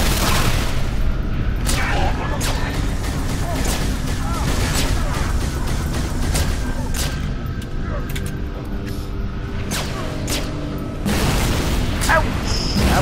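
Rapid bursts of gunfire and booming explosions from a Halo 3: ODST firefight, dense and loud throughout, with a voice talking over the shooting.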